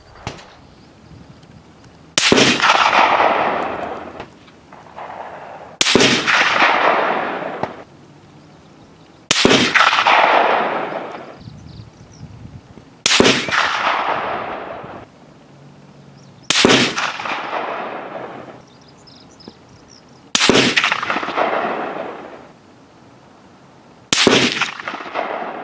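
Seven loud, sharp shots from a big scoped rifle, each crack followed by a long ringing decay and spaced a few seconds apart, with quiet gaps and no talk between them.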